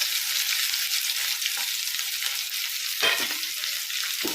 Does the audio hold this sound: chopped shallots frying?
yes